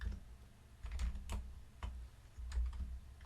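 Computer keyboard keys are struck in short clusters of soft clicks, including copy and paste shortcuts, recorded close and fairly quiet with brief gaps between the presses.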